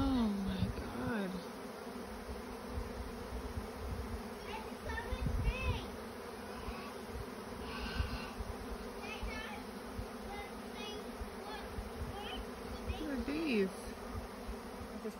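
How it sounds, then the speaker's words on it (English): A swarm of bees fills the air outdoors with a dense, continuous buzzing drone near a flow hive, individual insects whizzing past the microphone now and then. "Walked outside to this crazy noise. Can you see all those bees?"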